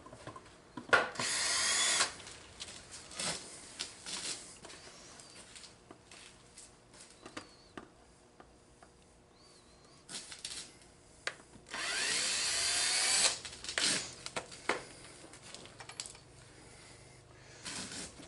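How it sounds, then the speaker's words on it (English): A power drill backs screws out of a crankcase casting mold in two main whirring bursts, close and fairly loud. Clicks and light handling knocks fall between the bursts. "take the screws out and lift it off."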